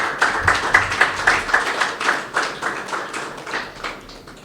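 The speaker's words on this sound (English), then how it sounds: "I want us to give all of them a round of applause for their contribution." A round of clapping from a small group with distinct, fairly regular claps, moderately loud and steady throughout.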